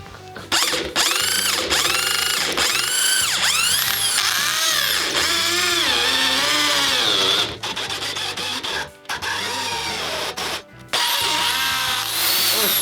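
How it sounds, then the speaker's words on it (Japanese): Power drill with a very long bit boring through a wooden support pillar in an old Japanese house, a loud continuous whine that rises and falls in pitch as it bites, with brief stops and restarts. "ちゃんとね穴を開けれるドリルに変えてやっていきます。"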